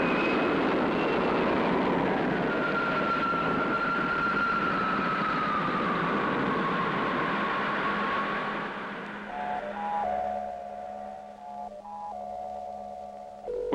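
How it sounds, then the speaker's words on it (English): Spaceship takeoff effect from a 1962 science-fiction puppet series: a loud, sustained roaring rush with a sliding whine that falls over several seconds, then gives way to quieter electronic bleeps and steady tones. "Takeoff program starting now."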